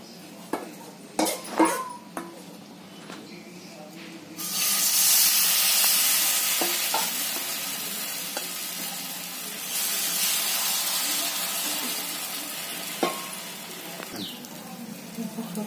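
Oil poured around a wheat-flour uttapam (dhirde) frying on a pan, giving a steady broadband hiss and sizzle that swells after a few clinking utensil knocks, with brief louder bursts later on.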